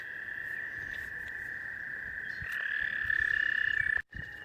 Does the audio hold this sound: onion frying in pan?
no